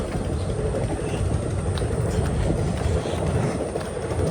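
A train rumbles past close by, a loud, steady roar of wheels on rails that fills the whole stretch without letup.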